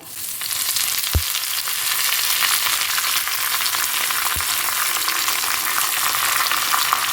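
Chillies and curry leaves fry in oil in a pan over a low gas flame, giving a steady, close, dense crackling sizzle throughout, broken by two soft low thumps.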